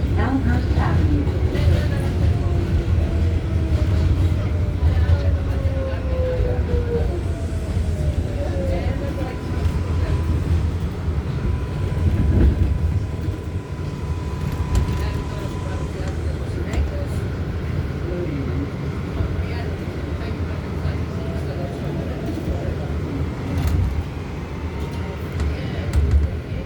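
Ride on an NYC subway R188 7 skip-stop train bound for Flushing–Main Street, a steady low rumble and rattle of the car with faint wheel squeals and hum, an announcement voice heard over it.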